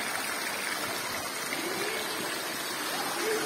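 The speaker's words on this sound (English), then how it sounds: "This is the waterfall." Gordale Scar waterfall near Malham, a steady rushing, splashing wash of falling water heard from nearby, continuous and even with no breaks.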